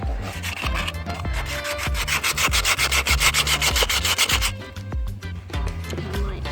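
Steady rhythmic rubbing and sanding strokes scrape across a calabash bowl as it is smoothed, repeating quickly and closely for several seconds before easing off into slower, sparser scrapes near the end.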